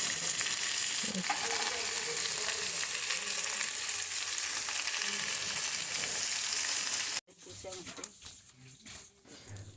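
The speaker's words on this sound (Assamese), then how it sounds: "মই এইফালে কেৰাহীত চব্জিখিনি বহাব ৰেডি কৰি আছোঁ" Vegetables frying in a kadai in a village home kitchen, a steady loud sizzle that runs for about seven seconds, then cuts off abruptly and leaves quieter room noise.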